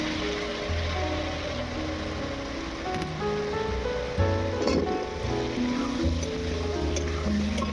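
Potatoes and ground spices, coriander and garam masala, fry in a pot with a dense, constant sizzling hiss and a few soft stirring knocks, close and fairly loud, without speech.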